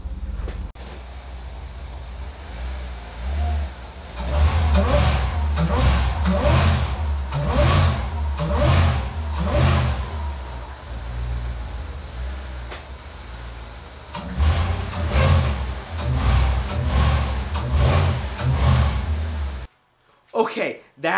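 A Mercedes SL55 AMG with M113k supercharged engine and worn motor mounts revved in several loud bursts from idle, heard close with clattering, then a brief cut to silence near the end.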